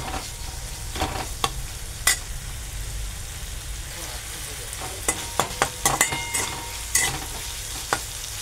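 Spice paste with cumin and potatoes sizzles in a pan for a fish curry, a steady frying hiss broken by sharp scraping and stirring clicks of a spoon against the pan.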